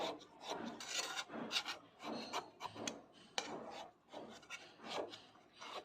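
A utensil rasps around the inside edge of a pan, loosening a cooled strawberry cake, in a steady run of close scraping strokes with short pauses between them.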